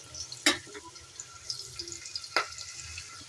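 Whole spices tempering in hot oil in a pan for ponnaganti greens dal, giving a soft, steady crackling sizzle with two sharp louder pops, close by and without voices.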